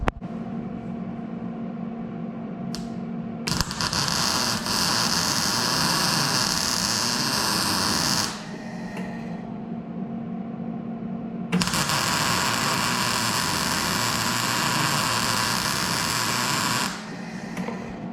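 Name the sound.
plug welding a new truck bed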